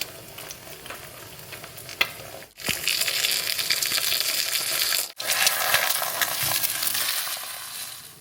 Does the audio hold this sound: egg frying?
yes